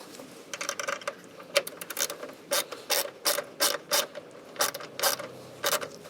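A ratchet tightens screws on a BMW E90 headlight, giving repeated short bursts of crisp clicking in regular strokes with brief pauses, close and clear with no talk.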